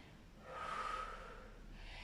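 Soft breathing during a pause in a Vinyasa yoga session, a single faint, drawn-out breath heard close and quiet over low background hum.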